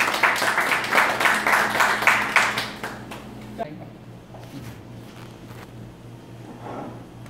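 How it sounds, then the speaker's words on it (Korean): An audience applauds at a cooking demonstration on sauce-touch food art, steady clapping for about three seconds that then fades into quiet room murmur. "박수 한번 쳐 주세요"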